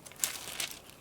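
Paper crinkling and rustling during collage gluing for a mixed media pop-open journal, a soft, close, continuous crackle with a few sharper crinkles, no voices.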